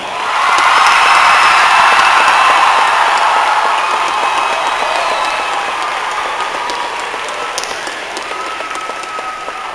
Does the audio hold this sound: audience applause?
yes